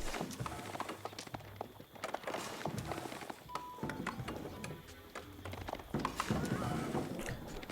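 Knights' horses in Age of Empires 4, French royal knights moving about: steady clip-clop of hooves with occasional whinnies and thunks, mixed with busy game effects and a voice talking over it.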